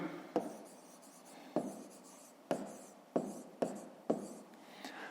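Digits written by hand on paper for a fifth-grade maths exercise: several sharp pen strokes at irregular intervals, close and quiet, with no voices.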